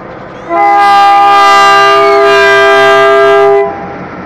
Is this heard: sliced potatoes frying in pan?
no